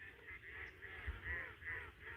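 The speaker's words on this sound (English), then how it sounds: "Can you hear these ducks?" Ducks quacking and honking faintly in the distance, a few nasal calls repeating over a steady low background hum, with no talk.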